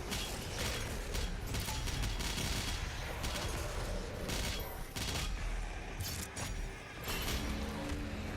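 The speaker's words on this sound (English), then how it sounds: "We're doing micro missiles now." Micro missiles fire in DOOM Eternal as rapid, close clattering bursts with mechanical clicks, rattling in quick volleys against a dense, loud combat din.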